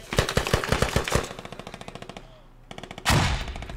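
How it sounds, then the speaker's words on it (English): Automatic gunfire in the military shooter game Squad: rapid close bursts of shots, then a quieter steady string of distant rounds, a brief lull, and a loud sudden burst again. "Who is shooting at us?"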